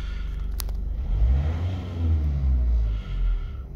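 A Vauxhall Vivaro or Renault Trafic van engine with a MAF sensor fault idles low, then revs up twice in slow surges, rumbling close by with no talking.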